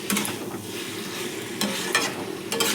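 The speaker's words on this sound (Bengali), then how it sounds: "এবার মাছটা আমি দিয়ে দিচ্ছি। মাছটা দিয়ে ভালো করে মশলাটার সাথে কষে নেব।" Fish fries in a pan with spice paste and is stirred close to the microphone, giving a strong continuous sizzle with bursts of scraping and spattering.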